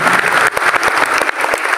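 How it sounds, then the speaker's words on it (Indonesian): A church congregation claps and cheers during a Sunday sermon, a brief burst of loud, dense clapping with rhythmic hand strikes. "Tepuk tangan yang paling meriah buat Tuhan."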